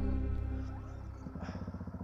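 Dirt bike engine, a Honda CRF300 or Husqvarna FE450, starting after a fuel pipe fix: a low rumble that settles into a steady, pulsing idle, moderately close and fairly quiet.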